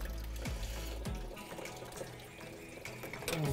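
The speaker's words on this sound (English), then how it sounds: "the radiator is still draining out" Coolant draining from the radiator of a 1965-1966 Ford Mustang, a faint continuous trickle and splash of liquid with a few soft clanks of handling.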